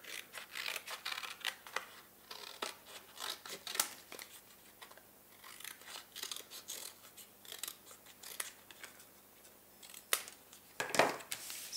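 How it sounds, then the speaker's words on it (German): Scissors cut out a template from a milk carton, producing many close, quiet snips and crisp crackling slices in an irregular rhythm, with occasional rustles of the carton between cuts and no talking. "Die schneide ich aus."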